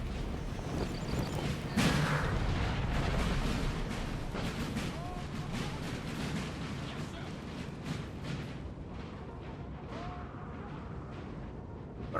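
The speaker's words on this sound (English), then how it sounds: "I don't know what artillery is firing." Artillery fires in a Napoleon Total War 4v4 battle, heard as a series of booming thumps and crackling volleys over a dense, continuous din, with someone talking over the gunfire.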